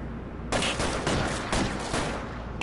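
Gunfire in the video game L.A. Noire during a bank standoff shootout, a loud, dense burst of repeated shots in rapid clusters across the whole clip, with no talking.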